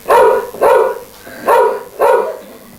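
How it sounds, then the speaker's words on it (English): Four loud, evenly spaced barks come from the dog Nana in an amateur pantomime staging of Peter Pan, each bark sharp and close with short pauses between. "That's her bark because she smells danger."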